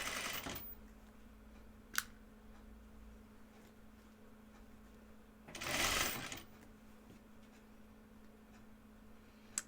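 A domestic sewing machine stitches through the gathers of a cardigan hem in short bursts, a quiet steady hum with a louder run near the middle and a few sharp clicks.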